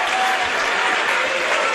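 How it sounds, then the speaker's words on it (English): Basketball fans in a gym applauding during a high school Division 1 playoff semifinal between Pinkerton and Trinity, a loud, dense, sustained crowd ovation with cheering mixed in. "the Astro fans give them a round of applause"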